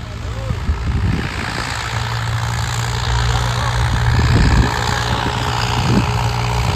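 Swaraj tractor engine running in second gear while pulling a harrow, a continuous low diesel rumble at close range with someone talking over it at times.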